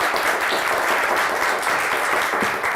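A television word game show studio audience applauds in a dense, steady wash of clapping that holds at an even, fairly loud level throughout.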